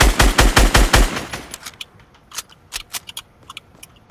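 Video game gunfire: a rapid burst of about six loud automatic shots, then a quieter run of scattered single shots and short bursts.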